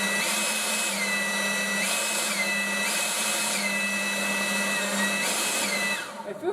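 A Ryobi 40V battery leaf blower runs on turbo with a loud, steady whooshing roar and a high whine that swells and dips in a regular rhythm, close by and with no talking.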